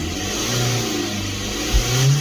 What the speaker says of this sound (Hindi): अब हम गाड़ी को रेस करते हैं